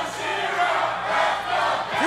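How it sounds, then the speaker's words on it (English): A dense wrestling arena crowd in historic Davis Arena roars and chants loudly and continuously, filling the space at a steady, deafening level without pause. "Cowboy Shera chants deafening here in historic Davis Arena"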